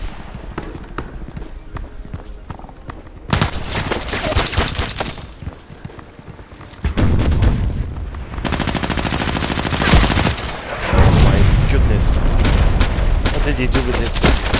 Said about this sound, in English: This is heavy shooting here.